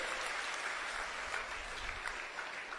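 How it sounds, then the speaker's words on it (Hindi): A large crowd at a political rally in a grain market yard applauds the Delhi chief minister, a faint, distant wash of continuous clapping with a low rumble underneath. "देश की राजधानी की सीएम आतिशी जी का तालियां बजाकर हार्दिक अभिनंदन स्वागत करें"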